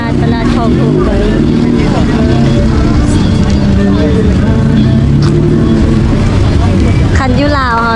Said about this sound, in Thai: บรรยากาศตลาดคลองถมตอนนี้